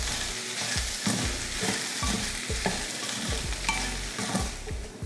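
Mashed potato masala with turmeric and salt being stirred and sautéed in a pan: steady soft sizzling with repeated scraping and stirring strokes throughout, no talking.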